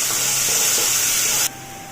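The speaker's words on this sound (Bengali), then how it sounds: "এবারে দেব এই পেঁয়াজ যেটা চপ করে রেখেছিলাম, এটা দিয়ে দেব।" Chopped onion hits a hot pan while crispy chicken is being prepared, bringing a loud, even sizzling hiss that cuts off abruptly partway through and leaves a quieter background.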